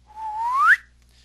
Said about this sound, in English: there's actually a slide whistle effect